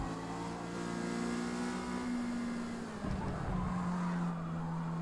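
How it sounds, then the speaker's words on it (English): A Mazda MX-5 racing at Silverstone in Forza Motorsport, its engine droning loudly and steadily under throttle, dipping briefly around a gear change before the revving climbs again. "I try to get back on the throttle as fast as I can to try and pull away from this guy"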